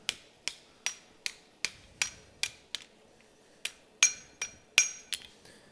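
A hammer peen strikes hot iron on a swage in a steady rhythm, about a dozen sharp ringing blows with a short pause partway through, while forging an iron cone.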